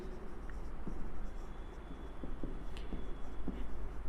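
Pen scratching on paper as a definition is written out, soft close strokes and light taps in an irregular rhythm over a quiet room background.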